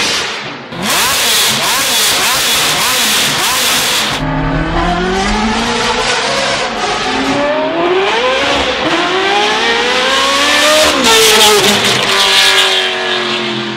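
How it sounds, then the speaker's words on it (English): A car engine fitted with a fully straight-piped FabSpeed exhaust revs and accelerates loudly and up close, its raw, rasping note climbing and dropping in repeated sweeping pulls over several seconds. "with the fully straight piped FabSpeed exhaust, this engine sounds absolutely incredible"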